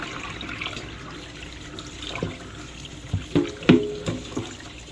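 Tap water runs steadily into a sink while a catfish is washed, with soft splashes and a few sharper sloshing knocks toward the end.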